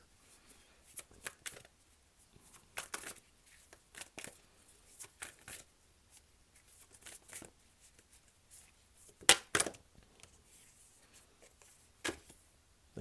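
Gita oracle card deck being shuffled, giving soft papery riffles and slaps in irregular bursts, close and fairly quiet, with no talking.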